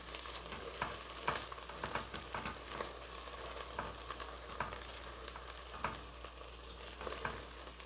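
Onions fry in a pan for a chicken achari gravy, a soft, steady sizzle under repeated spatula scrapes and stirring clicks at an uneven pace, with no voices.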